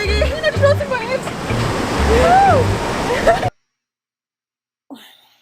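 Ocean waves wash steadily while surfing, a continuous loud rushing surf with a voice calling over it, before cutting to near silence and a brief faint sound at the end.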